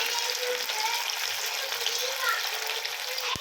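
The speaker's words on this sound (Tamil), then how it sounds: "நல்லா கோல்டன் ப்ரௌன் கலரில் சேஞ்ச் ஆகிற வரைக்கும் டீப் ஃப்ரை பண்ணி எடுத்துக்கலாம்." Leftover idli pieces deep-frying in hot oil, a dense continuous bubbling sizzle heard up close and steady throughout, with no clear talk.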